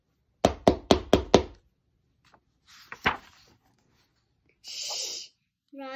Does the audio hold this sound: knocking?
yes